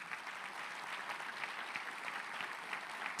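A church congregation applauds during a Portuguese-language sermon, steady dense clapping at a moderate distance with no voices over it.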